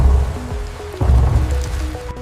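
Rain falls steadily in a forest, a continuous loud hiss with a heavy low rumble underneath and no voices.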